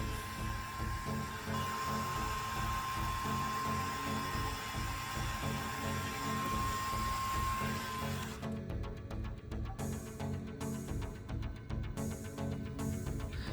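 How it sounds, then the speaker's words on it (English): A hot air tool blows steadily, close and loud, softening the screen adhesive on a Samsung Galaxy A50; a continuous broadband hiss with a faint whine holds throughout, then turns rougher and pulsing in the last few seconds. "You can use the hot air to soften the adhesive"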